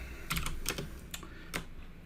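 Quiet typing on a computer keyboard, a short irregular run of soft key clicks heard close up with no voices.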